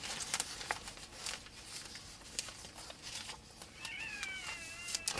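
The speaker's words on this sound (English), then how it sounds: "Can you hear those cats scrapping outside for whatever reason?" Cats fight outdoors in the snow, letting out wavering yowls and caterwauls with scattered scuffling clicks, heard from some distance outside.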